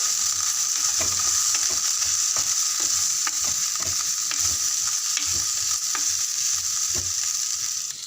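Grated coconut and chickpea sundal being stirred in a hot pan, a steady sizzle with repeated soft scraping strokes of the spoon, close and continuous with no talking.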